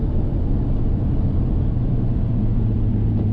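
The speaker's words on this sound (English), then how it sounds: "Tires are riding nice. They're not even that loud." Tire and road roar inside a moving 1988 Ford F150 pickup, a loud, steady low rumble with constant broadband hiss and no breaks, with no voices over it.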